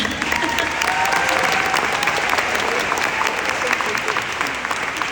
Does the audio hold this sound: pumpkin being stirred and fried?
no